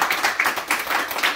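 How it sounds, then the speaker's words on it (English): An audience claps briefly for a speaker at a Gwinnett County Superior Court candidate interview, with quick, rhythmic claps at moderate loudness. "Can you give a clapping for her?"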